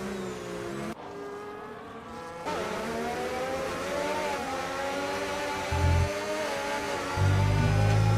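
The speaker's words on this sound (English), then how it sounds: "Is that more traction control I can hear from the Aston Martin driver?" Racing car engine of an Aston Martin in a Formula 2 race at Hungary, sliding through turn 4 with traction control cutting in: a steady high-pitched engine whine with abrupt shifts and brief stuttering bursts, close and continuous, no voices.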